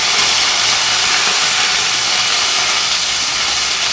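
Curry leaves sizzle in hot ghee with cumin and peppercorns for veg fried rice, a steady, loud, bright hiss of frying that holds unbroken from start to end.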